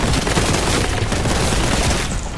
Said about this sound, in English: Ah, the sound of gunfire and explosions.